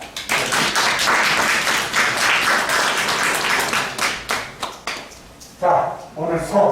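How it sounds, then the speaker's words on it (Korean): A dental technology class applauds, a dense burst of many hands clapping that thins into scattered individual claps, followed by a voice speaking near the end. "우리 부분에 열심히 하는 외국인 친구들의 박수 한번 줍시다."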